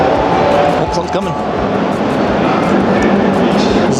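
A train rumbles and screeches nearby, steady and loud, as it pulls into a station in Japan.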